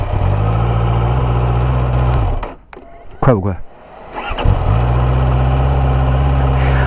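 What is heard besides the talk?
QJmotor Race 800 motorcycle engine idling and revving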